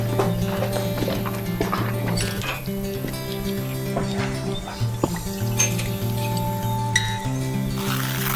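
Horses at a horse rescue, with steady hoof clip-clops and faint clinks of metal tack or equipment sounding through the whole stretch, close and busy, with an occasional whinny in the mix.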